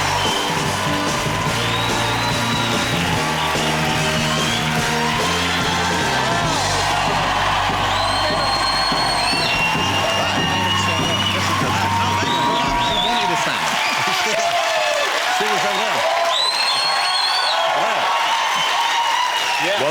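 A studio audience on a British talk show cheers, whoops and applauds as Will Ferrell walks on, a loud continuous roar of clapping and yells that lasts most of the stretch before settling.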